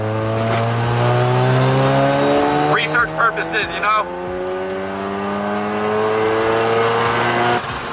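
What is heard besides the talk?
car accelerating hard in third gear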